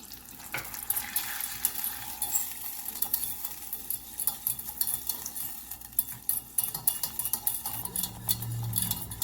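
Brown sugar being stirred into a browning mixture in a pan, with steady scraping and soft sizzling running throughout, a light continuous stir at close range with no voices.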